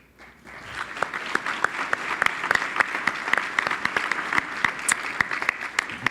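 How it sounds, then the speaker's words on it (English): An audience applauds award winners at an awards ceremony: dense, sustained clapping from many hands that swells in and holds steady, with sharp individual claps standing out and no speech. "Let's give one more round of applause to all of our award winnees"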